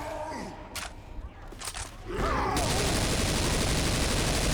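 Gunfire in a Left 4 Dead 2 zombie match with a modded US Ranger, a few spaced shots giving way to a dense, loud, continuous barrage of rapid fire close by.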